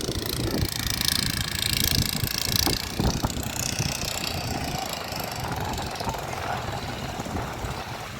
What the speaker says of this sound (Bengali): এই ট্রাক্টর কিন্তু এখন টেনে নিয়ে যাবে।